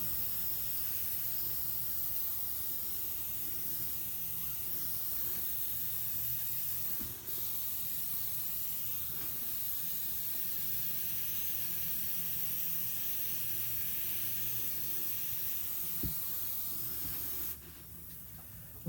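An airbrush spraying black paint over a flag stencil gives a steady, close hiss that runs nearly unbroken with a couple of brief dips, no talk.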